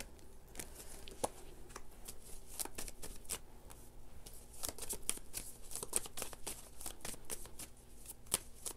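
Tarot cards are shuffled and drawn by hand, giving a quiet, close run of quick riffling flicks and soft slaps in irregular bursts, with no voices.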